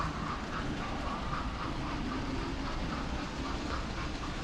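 Hornby model train set on a large layout plays its sound effects, a faint continuous rumble with rhythmic clickety-clack pulses, heard at a distance in a visitor centre with no talk.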